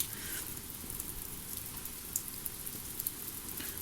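Steady rain falling outside a window during a storm, a dense, even hiss with faint scattered drops tapping close by, with no voices.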